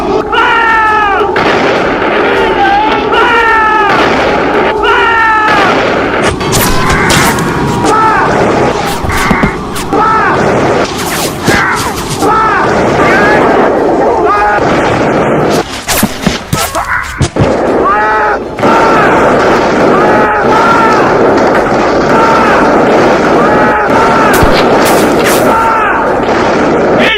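Loud artillery fire and explosions from a video game, with repeated booming volleys and sharp bursts layered densely for the whole stretch, alongside shouted voices and cries.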